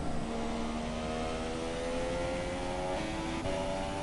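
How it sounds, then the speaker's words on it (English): An F3 race car in a racing video game revs back up after a downshift, a loud, buzzy engine whine climbing steadily in pitch, with a brief dip and renewed rise near the end. "Losing a lot of time to build up the revs again with the downshift"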